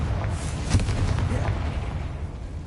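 A Confringo fire spell explodes in Hogwarts Legacy on PS5, a mid-level burst with crackling, rumbling debris that lingers steadily under game ambience for nearly three seconds.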